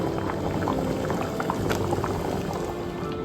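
Homemade prawn stock boiling in a pot, a constant bubbling roll with small pops and gurgles, moderately close and uninterrupted.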